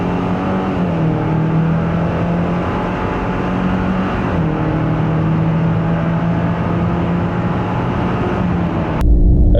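A 2004 Ford Ranger pickup with the 2.3-litre four-cylinder engine and over 250,000 miles screams at high revs, held hard near redline with a steady strained drone that shifts slightly midway, loud and close before an abrupt clunk at the end.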